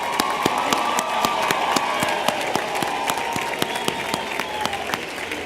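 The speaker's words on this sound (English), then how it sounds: "give them all a round of applause" Sustained audience applause at a 2011 commencement ceremony, dense steady clapping from a large crowd with crisp individual claps standing out and a faint cheer mixed in, fairly distant in a large space.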